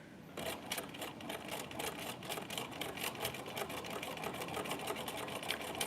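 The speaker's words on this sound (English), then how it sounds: "All you have to do is sew, and then you'll have a cute little pin tuck" Sewing machine stitching a pin tuck with a specialized presser foot, a steady rapid mechanical whir with dense regular needle clicks running continuously throughout, close and fairly loud.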